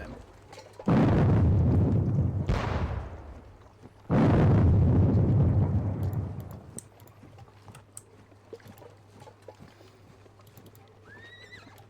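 Two heavy artillery booms in a Napoleonic war video game, loud and close, each followed by a long rumbling decay, then a quieter stretch with faint clicking.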